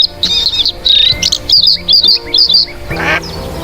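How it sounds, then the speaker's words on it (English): Red-backed shrike (Lanius collurio) calling in Southeast Asia: a run of sharp, high chirping notes repeated in quick bursts, clear and fairly loud over a low background hum, with a harsher squawk near the end. "3. Lanius collurio."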